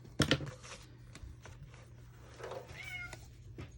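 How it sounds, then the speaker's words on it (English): A cat meows a few times close by, short rising and falling cries with some light rustling in between. "What is it, Sassy Cat?"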